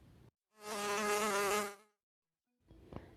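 A cartoon mosquito's buzzing whine rises loud and close, holds steady for just over a second, then fades away in a quiet garden setting, with no voices over it.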